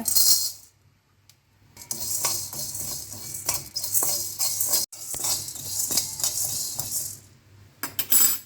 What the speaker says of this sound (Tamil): அடுத்து ஒரு பேனில் கொஞ்சம் மிளகு, இது மல்லி, இது பெருஞ்சீரகம் இதெல்லாம் போட்டு கொஞ்சம் வறுத்துக்குங்க.